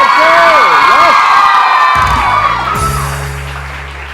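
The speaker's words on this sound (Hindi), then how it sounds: "ये तो तालियां होनी चाहिए यार इसके लिए।" A studio audience on a morning television show cheers and whoops loudly, a close, bright crowd roar that continues as musical tones swell underneath and the noise gradually eases.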